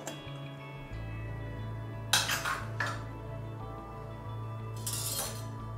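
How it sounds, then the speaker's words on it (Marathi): A pressure cooker lid is opened after two whistles with chicken korma inside, giving a couple of short metallic clanks and scrapes over a steady low kitchen hum. "आपण आता झाकण उघडून घेऊ"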